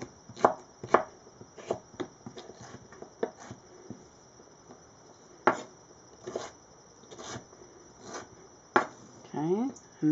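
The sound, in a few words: chopping vegetables into julienne sticks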